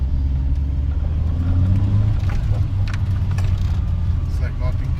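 A Skoda Favorit hums along on a test drive, its low engine rumble steady and droning underneath people talking inside the car.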